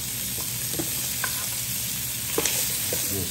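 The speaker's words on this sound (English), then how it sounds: "I hear my butter sizzling, so I'm just gonna put these shrimp in right here" Continuous sizzle and crackle of shrimp sautéing in butter in a hot pan, with a few soft clinks of stirring, no voices.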